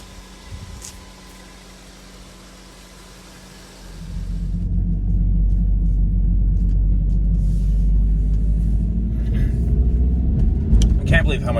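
A car fitted with EBC Yellowstuff brake pads idles quietly, then pulls away into a loud, steady low engine and road rumble from inside the cabin.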